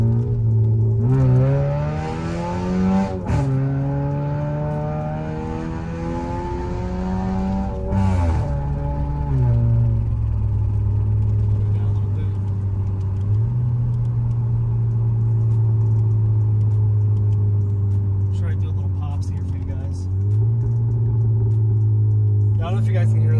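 A 2013 Dodge Dart engine roars steadily at full throttle, its pitch climbing and settling in long sweeps, with a couple of brief gear-change dips.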